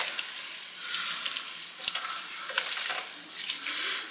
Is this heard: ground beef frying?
yes